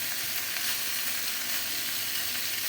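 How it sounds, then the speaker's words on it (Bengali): Mixed vegetables, including cauliflower, are stir-fried with spice paste in a pan, producing a constant close sizzle and crackle with no pauses or speech. "সমস্ত সবজি একসঙ্গে দিয়ে ভালো করে আমরা মশলাটাকে কষিয়ে নিচ্ছি মশলার সঙ্গে"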